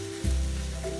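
Onions and three large garlic cloves sauté gently in olive oil, a close, steady sizzle that swells suddenly when the food hits the pan and carries on alone.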